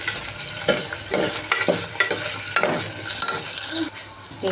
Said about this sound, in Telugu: బాగా దీంట్లో ఆనియన్స్ ఫ్రై కావాలండి